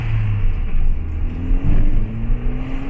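A 2014 Ford Fiesta ST accelerates hard, its engine rumbling and rising in a steady climbing drone for about three seconds with no talk over it.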